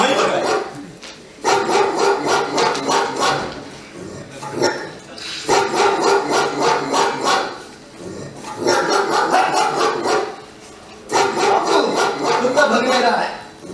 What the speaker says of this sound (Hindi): कुत्ता भी भौंकने लगा है